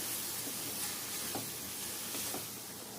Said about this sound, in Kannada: ಇವಾಗ ಸ್ವಲ್ಪ ಇದನ್ನ ಚೆನ್ನಾಗಿ ಸ್ವಲ್ಪ ಫ್ರೈ ಮಾಡ್ಕೊಳ್ಳೋಣ.